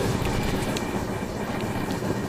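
An Indian train runs along the rails with a steady, loud low rumble and a continuous wash of rolling noise, with no distinct clacks standing out.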